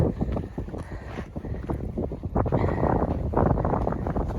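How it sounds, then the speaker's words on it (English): Steady wind roars and buffets the microphone on the Pacific Crest Trail, a loud continuous rush with gusts that swell louder in the second half. "And this wind is actually not that cold."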